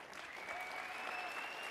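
An audience at the Macworld 2010 Photoshop 20th anniversary session applauds John and Thomas Knoll, a dense, even wash of clapping from a large crowd that stays steady throughout, with a faint voice underneath.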